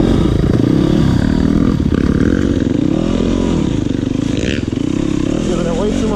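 Yamaha YZ250FX dirt bike ridden with a continuous loud engine drone whose pitch wavers up and down as the throttle and clutch are worked, close to the rider.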